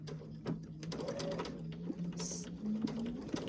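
A sewing machine back-stitching a quilted heart table runner, a steady soft whirring hum with small mechanical ticks, close and fairly quiet, with no talk.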